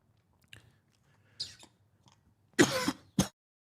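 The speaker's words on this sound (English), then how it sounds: "Excuse me, I'm coughing." A man coughs and clears his throat a few times, quiet rough bursts building to two louder coughs near the end, with no talk.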